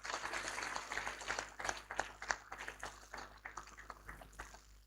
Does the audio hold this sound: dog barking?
no